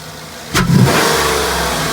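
A car engine fitted with a new cold air intake revs up sharply once from a rough idle, a loud, close roar with a strong intake growl that settles into a sustained higher drone.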